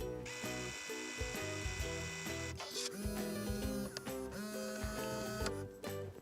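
A Brother Design 'n' Craft printer prints a photo, its motors whirring close up in steady runs of stepped, shifting tones with small mechanical clicks, carrying on without pause for the whole stretch, with no voices over it.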